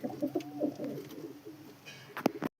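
Soft, low pigeon coos repeat close by in a short series, followed by a brief louder flutter or knock near the end.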